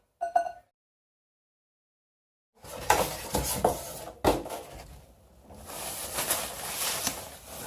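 The glass turntable plate of a Samsung microwave oven clinks and rattles as it is handled during unboxing, with a brief knock first, then a pause, then several seconds of scraping, tapping and bumping nearby.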